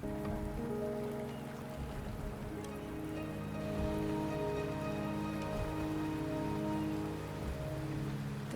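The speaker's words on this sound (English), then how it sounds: "the rain is subsiding." Steady rain falling in the video game Wuthering Waves, a constant even patter close by with a soft musical tone underneath, no voices.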